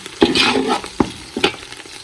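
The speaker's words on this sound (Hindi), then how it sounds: "पहले अच्छी तरह से लहसुन के साथ भून लेते हैं" Garlic, with ginger, sizzles in a hot pan while a utensil scrapes and stirs it in a few sharp strokes, close and loud, with no voices.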